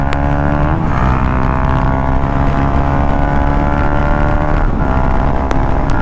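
A 2025 KTM Duke 200 BS7 motorcycle with a modified silencer drones steadily at speed, its engine note dipping briefly at a couple of gear changes amid constant wind and road noise.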